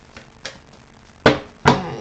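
Playing cards shuffled during a card reading, heard as a few crisp riffling bursts, two louder ones close together near the end, with no talk.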